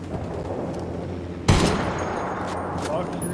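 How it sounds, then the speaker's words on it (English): Minigun fire in the tactical shooter Ghost Recon Wildlands, set against steady battlefield noise; a sudden loud burst hits midway and rolls into a sustained roar before tapering off. "This thing is taking minigun fire."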